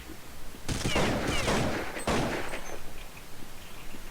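A close, loud burst of rapid gunfire sounds in a competitive first-person shooter match, lasting under two seconds and followed by a shorter volley.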